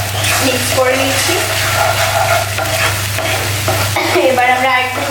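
Chicken curry masala with coriander powder being stirred and fried in a pan, a steady loud sizzle under continuous scraping of the spoon, with a low constant hum behind it.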